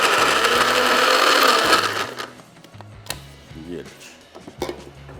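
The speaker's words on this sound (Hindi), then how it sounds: "और अभी इसको ग्राइंड कर रहे हैं" A chopper machine grinding peanuts for peanut butter gives a loud, whirring roar for about two seconds, then stops, followed by scattered clinks and knocks from the container.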